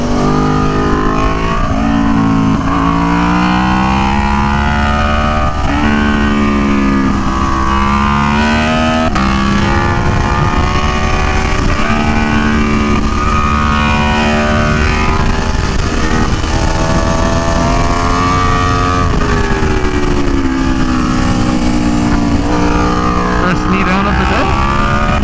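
Aprilia Tuono V4 1100 Factory motorcycle lapping Buttonwillow Raceway Park, a loud onboard V4 engine note climbing through gears with repeated pitch sweeps and wind rush, sustained and close throughout.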